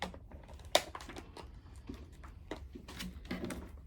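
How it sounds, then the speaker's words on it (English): Index cards are grabbed and shuffled on a table in a series of quiet taps and light clicks, with one sharper slap early on and soft, irregular rustling after it, close by. "Just grabbing out all the cards so I can run maintenance on all the cards my client knows."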